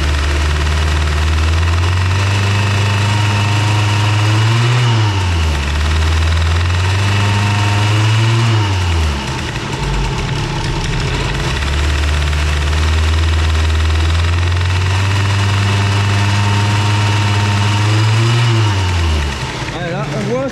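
A Bidalot RF 50 WR motorcycle engine fitted with a W9 exhaust, loud and close, idling with a steady buzzing drone that rises twice in revs and falls back, while a voice talks over it.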